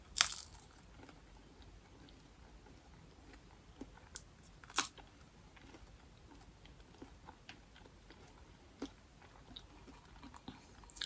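Quiet, close-up crunching from someone chewing crispy air-fried frozen fries, with a few sharper crunches early on and softer chewing after.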